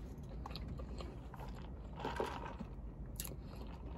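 Crunchy chewing of Burger King french fries, close and steady throughout, with a brighter bite near the middle and another toward the end, no talking.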